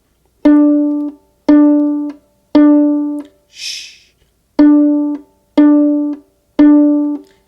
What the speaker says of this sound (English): Pizzicato is an Italian word for plucking the string.